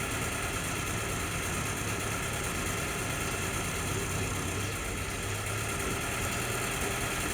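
Steady idle of an M38A1 jeep engine, running continuously close by with a rough, surging rumble that dips as it bogs down and then recovers, with no talk.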